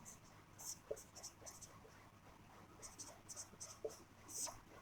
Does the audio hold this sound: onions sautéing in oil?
no